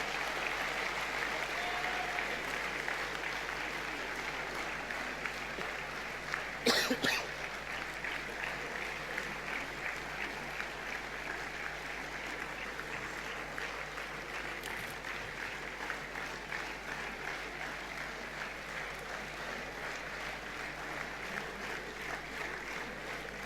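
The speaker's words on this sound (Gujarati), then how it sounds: "આ બધા મિત્રો માટે તાળીઓ ઓછી ના થવી જોઈએ પ્લીઝ." Sustained, even applause rolls through a large hall audience at the Shri Morari Bapu honour event of Gujarat Samachar Samanvay 2016, clapping steadily for the backstage team without a break.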